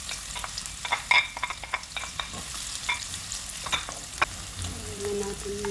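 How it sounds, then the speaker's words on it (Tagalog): Meat being sautéed in a pan for a lasagna, with a steady sizzle broken up by repeated clinks and scrapes of a utensil stirring it, close and fairly loud, with no talking. "Gigisa na natin yung karne."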